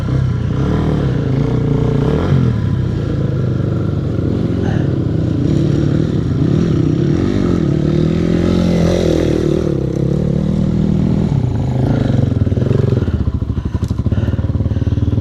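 A Suzuki DR-Z enduro motorcycle riding off-road, its engine droning loud and steady throughout with shifting revs, along with clattering and occasional thumps.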